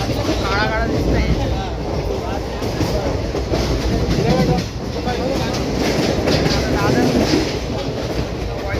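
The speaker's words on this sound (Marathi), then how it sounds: "बघू शकता ट्रेन चालली आहे" Inside a train rolling out of Mumbai CST, a constant rumble with rhythmic clatter of wheels on track, while someone talks over the noise.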